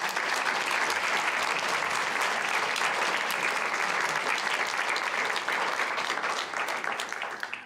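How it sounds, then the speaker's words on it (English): Steady, full applause from a debate audience greeting a panel on a city trash vote, dense clapping holding at an even level and tapering slightly at the close. "why don't we go ahead and give our panel a big round of applause"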